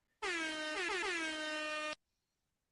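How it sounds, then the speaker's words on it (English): A loud air horn blares once for under two seconds, a brassy sustained blast with a brief wobble partway through, then stops abruptly. "let's get the air horns on"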